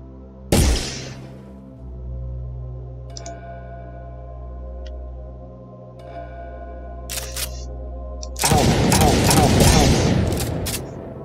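Gunfire from a third-person shooter built in Unreal Engine 4: one sharp shot near the start, a few faint clicks, then a dense rapid burst of shots near the end, all over a steady low background tone.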